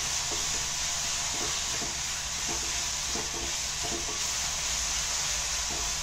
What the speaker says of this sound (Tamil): இஞ்சி பூண்டு பச்சை மிளகாய் ஒன்று கொஞ்சம் சோம்பு போட்டிருக்கேன் நல்லா ஃப்ரை பண்ணிக்கலாம்